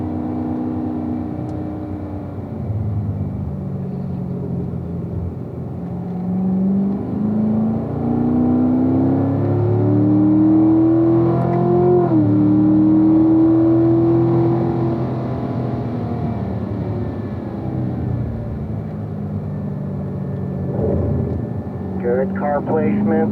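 Race cars lapping a track through a set of S-curve corners during a lead-follow driving session, engines swelling and falling as they pass through the bends, with a coach talking over them.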